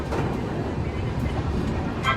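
Garib Rath Express rumbling along the rails after leaving Banda station, a steady loud continuous roar with a brief clatter near the end.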